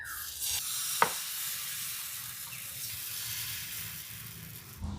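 Batter for a stuffed semolina paratha sizzles faintly on a hot oiled tawa, a soft steady hiss with a brief clink of a utensil early on.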